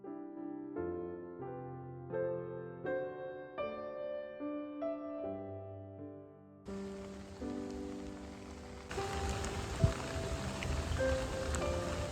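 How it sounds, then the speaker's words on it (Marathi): Rain drums on a camping tent in a windy storm, a loud dense hiss of drops starting about halfway through, after a stretch of soft piano music. "पण पाऊस आलाय आणि मला वाटत नाही पाऊस जाईल म्हणून लवकर"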